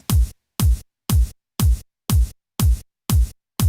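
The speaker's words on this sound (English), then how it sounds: "we're going to be using this kick drum pattern in pretty much" A tight, punchy kick drum repeats eight times at a steady pace, each hit short and abruptly cut off with silence between, a crisp click on every attack.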